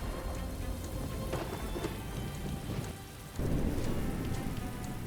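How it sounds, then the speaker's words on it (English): Heavy monsoon-style rain pours steadily with rolling thunder, a dense hiss that swells louder partway through, with no voices over it. "The rains are horrible."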